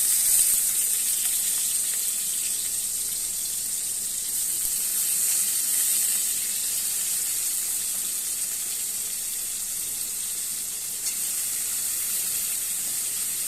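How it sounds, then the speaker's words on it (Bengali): Cut potatoes fry in hot oil, giving a steady, close sizzle with a bright hiss that continues evenly throughout. "এর মধ্যে আমি আগে থেকে কেটে রাখা আলু দিয়ে দেবো।"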